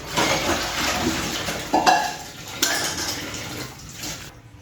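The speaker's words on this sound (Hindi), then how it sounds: "अब थोड़े से बर्तन वॉश करती हूँ" Dishes, pots and utensils being washed at a home kitchen sink, with continuous clinking and clattering of crockery and cutlery over running water, a few sharper knocks standing out near the middle.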